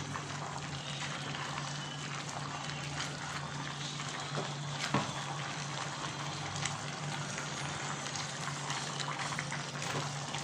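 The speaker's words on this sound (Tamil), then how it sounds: "அப்புறமா தேவையான தண்ணி ஊற்றிக்கலாம்" Water pours steadily into a pot of country chicken curry, a continuous rushing splash that stays even for the whole stretch, with no voices.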